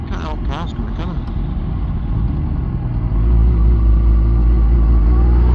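Steady low engine rumble of a car on the road, growing louder toward the end as the vehicle approaches, with brief voices near the start.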